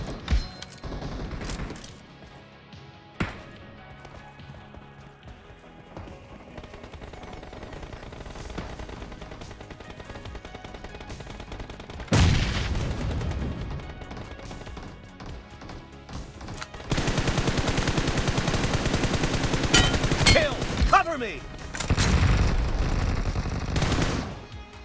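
Gunfire in the BGMI mobile battle game during a team deathmatch: scattered single shots early, then loud sustained automatic bursts and fusillades later, with crash-like impacts, no talking.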